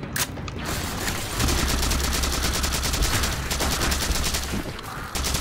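Rapid automatic gunfire in Halo 4 runs steadily for several seconds as a weapon overheats, a dense loud chatter of shots with mechanical clicks at the start and a brief cutoff near the end.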